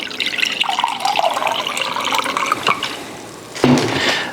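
Water is poured into maize dough for Mexican chilaquiles, making a steady watery splash and trickle that shifts midway into a louder, fuller pour at close range, with no talking.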